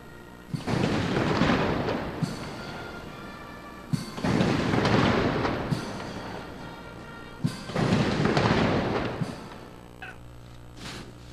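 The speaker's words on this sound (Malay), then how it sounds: "21 das tembakan meriam dilepaskan dengan diiringi lagu kebangsaan" Ceremonial cannons fire a 21-gun salute at a royal ceremony while the national anthem plays. Three heavy booms, each several seconds apart, roll out with long, rumbling decays.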